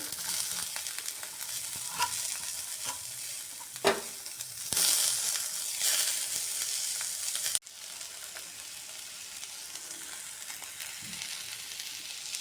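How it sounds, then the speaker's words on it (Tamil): Tomatoes with curry leaves and green chillies sautéing in a pan for a fish omelette dish, a steady close sizzle with scraping stirs and a sharper spatula knock partway, no talking. "தக்காளி நல்லா வதங்கிடுச்சு."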